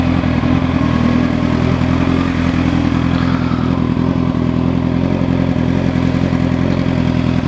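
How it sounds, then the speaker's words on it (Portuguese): A motorcycle rides through traffic, its engine droning at a steady, loud, close level with road rumble and wind, with no voices heard. "tá gostoso andar de moto hoje"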